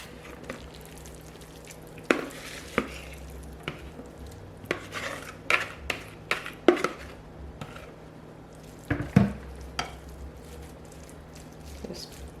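Spoon scraping and tapping as a rice mixture is spread over a meatless Mexican brown rice casserole in a dish, with scattered close clinks and scrapes at an uneven pace.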